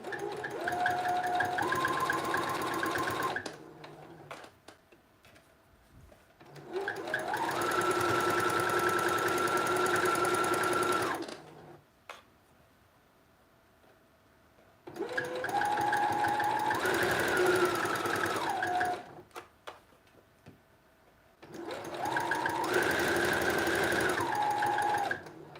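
Sewing machine stitching a red dress alteration, running in four long bursts of steady whirring with short quiet pauses between them, loud and close.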